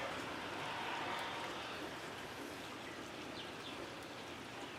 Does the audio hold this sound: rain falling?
yes